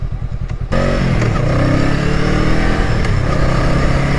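A 2020 Honda 500 Rebel motorcycle is ridden at speed, its engine loud and close with a steady roar. Wind noise runs under the engine, and a brief dip comes as the gearbox shifts.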